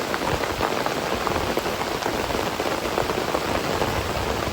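Heavy rain pounding on a tent during a rainstorm while van camping, a dense, loud, steady hiss of drops drumming close overhead with no pauses.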